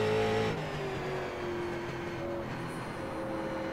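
Street stock race cars drone around an oval in the iRacing sim, a steady engine tone shifting pitch as one car passes close by, with no talk.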